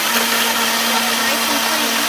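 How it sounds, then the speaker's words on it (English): A blender whirs steadily at full speed, blending French toast batter in an RV kitchen, loud and close with a constant motor hum and no talking. "Turn this on, and we just want to blend this up."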